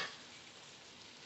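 Pork sizzles in hot oil in a pan, a steady faint crackling hiss that runs unbroken through the whole short moment with no voices.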